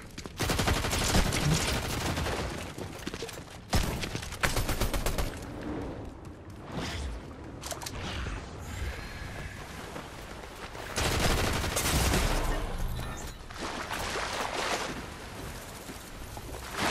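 Gunfire fills a Fortnite match, a loud, dense, nearly unbroken barrage of shots and blasts that runs throughout with only brief dips.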